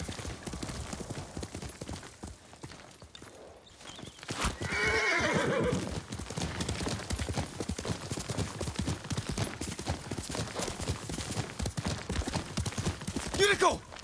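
A horse in the video game Ghost of Tsushima clip-clops with rhythmic hooves and lets out a loud whinny around the middle, amid ambient game sound and some talk.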